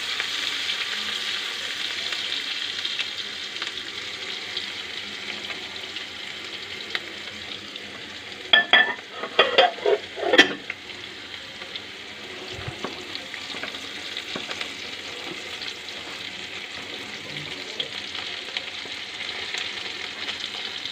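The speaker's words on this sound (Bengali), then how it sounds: "কুচনো পেঁয়াজটা দিয়ে একটু আমি ফ্রাই করব" Chopped onions fry in a pan for chole, giving a steady, moderate sizzle throughout, with a short burst of stirring and clinking from a utensil midway.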